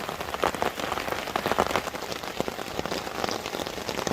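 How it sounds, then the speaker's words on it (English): Heavy rain falling on a campsite, a close, continuous patter of drops on surfaces with irregular louder splashes, steady throughout and without voices. "If it's raining, it's raining."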